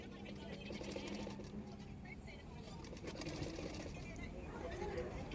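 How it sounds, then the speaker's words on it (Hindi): A sewing machine runs steadily up close, stitching a prince-cut blouse along marked side seams for a fitting, with a voice talking underneath. "दोनों साइड में मैंने इसी तरह से मार्किंग करके उसके बाद फिटिंग के लिए मैं सिलाई कर रही हूँ।"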